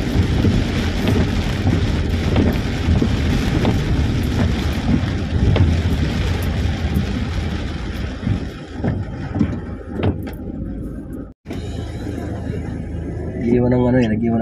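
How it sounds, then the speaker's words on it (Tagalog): Heavy rain pours steadily and loudly, a dense roar close by that holds for most of the stretch, breaks off for a moment of silence, then returns. "Talagang walang tigil ang ulan. Palakas ang ulan."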